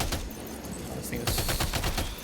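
Rapid bursts of heavy-recoil gunfire in Death Stranding 2 crack out in a dense, repeated volley that grows louder partway through, over a steady background rumble.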